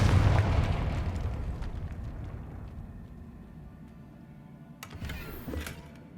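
A Confringo fire spell from the Hogwarts Legacy video game bursts in a loud, booming blast that rolls off and fades over several seconds, followed by a fainter, crackling second flare near the end.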